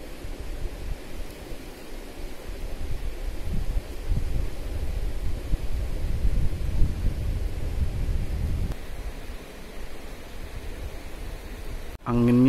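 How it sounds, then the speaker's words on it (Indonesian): Strong wind blowing at a riverside fishing spot, a steady broadband roar with low gusty rumble throughout, dipping briefly near the end as a voice begins. "Anginnya gede banget"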